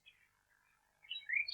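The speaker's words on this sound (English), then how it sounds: "They could hear a blackbird singing" A blackbird singing in a wood, a few soft fluting phrases, faint and sparse at first, then a brighter rising warble near the end, set in near silence.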